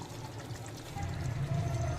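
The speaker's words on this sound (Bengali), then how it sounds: "এবার দিয়ে দেবো কিছুটা ফ্রেশ ক্রিম।" Fresh cream poured into chicken maharani curry, a soft, close pouring sound that swells and thickens about halfway through, with low kitchen rumble underneath and no talking.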